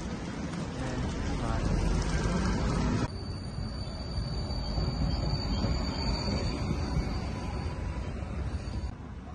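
A passenger train from Budapest rumbles and rattles steadily as it runs into Vienna. Faint squeals from the wheels or brakes come through, and the running noise drops slightly partway through. No one speaks.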